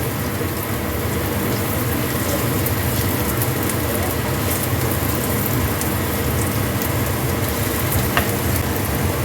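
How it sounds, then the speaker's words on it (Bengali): Lightly parboiled potatoes fry in hot oil with a dense, constant close sizzle like heavy rain, with occasional faint stirring clinks throughout. "আলুটা ভাজা হয়ে গেছে,"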